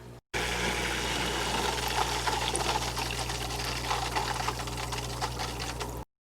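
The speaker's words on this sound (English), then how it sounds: "all you have to do is add the water back in" Water being poured back into a home aquarium after a water change, a steady rushing pour lasting several seconds over a low constant hum, close and alone without talk.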